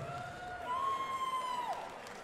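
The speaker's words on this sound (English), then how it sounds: "let's give Chad Huston a big round of applause" A crowd at a caged MMA fight cheers and applauds for the fighter, a sustained wash of noise with a high whistle-like tone running over it.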